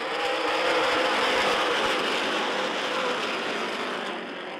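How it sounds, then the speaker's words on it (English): Super late model race cars accelerate together on a green flag restart at a short track, a dense, loud, sustained engine roar that fades slightly toward the end. "Green flag, and we're racing."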